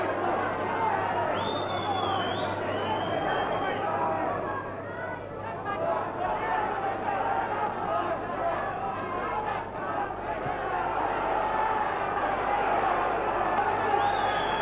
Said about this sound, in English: Just listen to the way this crowd is cheering these two home.